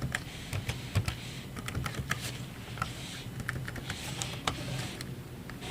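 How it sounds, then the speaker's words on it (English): Quick, irregular clicks of keys on a Dell Latitude E4200 laptop keyboard as a password is entered, close and crisp, with short bursts and pauses against a quiet background. "let me just type in my secret password"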